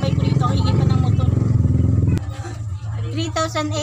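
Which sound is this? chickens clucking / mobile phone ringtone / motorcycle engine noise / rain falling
motorcycle engine noise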